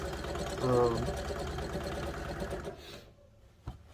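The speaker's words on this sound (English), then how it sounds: "this sewing machine is lighter too because it is a quilting machine and it's not bolted down" A lightweight quilting sewing machine runs while a waistband is stitched, a close mechanical whir with a rising whine early on that cuts out near the end, followed by a short clack.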